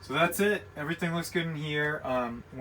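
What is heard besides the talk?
No everyday noises stand out.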